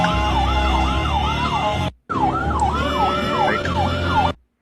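Loud, close ambulance siren wailing in a rapid rising and falling cycle, cut by a short gap before it resumes and then stops abruptly, with no talk over it.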